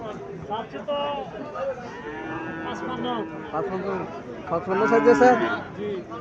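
Cattle mooing repeatedly at close range at a livestock market, several long lowing calls from Sahiwal heifer calves over a busy background of people talking.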